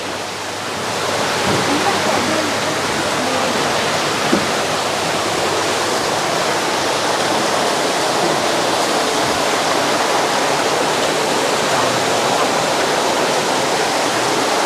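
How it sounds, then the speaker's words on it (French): Beside a restaurant in Mae Kampong village near Chiang Mai, Thailand, a waterfall roars as a loud, steady broadband rush that fades in at the start and holds unbroken throughout. "Et on va s'installer à côté de la cascade."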